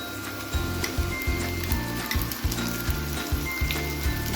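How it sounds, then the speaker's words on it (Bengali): Onion fried with ginger-garlic paste, coriander powder and cumin powder hisses in hot oil for a fish kachori filling. The sizzle is close and steady, broken by stirring scrapes about every half second. "পেঁয়াজটা এবার আমাদের ভাজা হয়ে গেছে, এবারে আমরা মশলাগুলো দিয়ে দিচ্ছি।"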